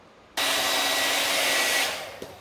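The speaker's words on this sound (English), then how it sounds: "Oh, I forgot to turn off my air dryer." A hair dryer switches on abruptly to dry wet acrylic paint on a beginner sunset canvas, blowing a steady loud rushing whir for about a second and a half before winding down, with a small knock near the end.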